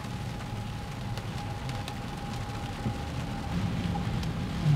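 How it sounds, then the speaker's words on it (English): Heavy rain pours on a car during a rained-out drive through Bardstown, Kentucky, a soft steady patter with scattered sharper drops and a low engine hum beneath, fairly faint overall. "it is really pouring out."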